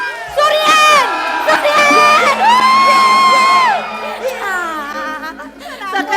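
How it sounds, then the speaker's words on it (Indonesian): An audience cheers and whoops loudly at a traditional Balinese drama gong performance, with high shouting voices and crowd chatter carrying steadily throughout. "tepuk tangannya dong"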